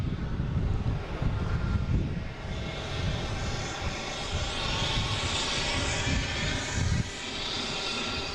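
Airliner on Detroit flight 1171 at Boston Logan International Airport, a steady loud engine roar with broadband rumble and wind across the whole stretch, no voices.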